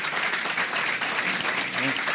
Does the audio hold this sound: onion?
no